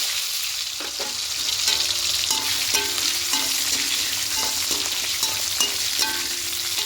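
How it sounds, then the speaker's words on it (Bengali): Boiled, cut potatoes sizzle steadily in hot oil in a pan, with a constant frying hiss and repeated light clinks and scrapes of stirring throughout. "এখানে সেদ্ধ করে কেটে রাখা আলুগুলোকে ভেজে নেব"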